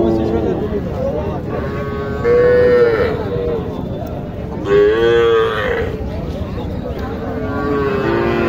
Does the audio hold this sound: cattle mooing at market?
yes